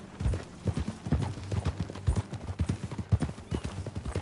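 Horse hooves clip-clop in a steady, brisk rhythm in the video game Red Dead Redemption 2, close and fairly loud, with a few faint vocal sounds mixed in.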